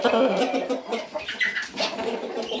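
Roosters moved into a cleaned coop cluck and call close by, with a busy, overlapping chorus of fowl voices and no talk over them.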